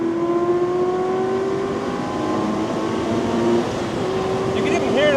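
A race-prepped car's engine runs steadily at high revs on a track, a continuous loud drone with rising and dipping tones as the RPM shifts and the car slides slightly sideways, sustained throughout.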